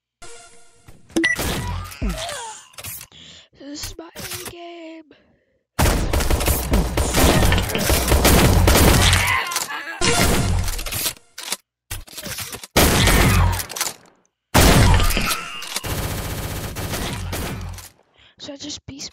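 Bursts of rapid gunfire in the Shell Shockers video game, including pistol shots, come in dense clusters separated by brief silences, with a player talking over parts of the action.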